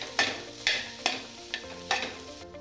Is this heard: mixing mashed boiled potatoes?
yes